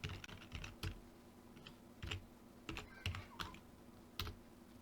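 Close, quiet typing on a computer keyboard while tracks are renamed in Cubase, with irregular clusters of soft key clicks and no talking.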